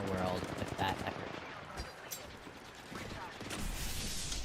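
Rapid automatic gunfire from the video game Apex Legends rattles in repeated bursts, mixed under a person talking over the action.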